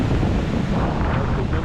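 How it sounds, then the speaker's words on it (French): Huge, powerful ocean waves and strong wind as a typhoon approaches, heard from a high mound on the island of Yakushima, Japan, a constant loud roar with heavy wind buffeting the microphone. "avec le typhon en approche, les vagues sont vraiment énormes et très puissantes"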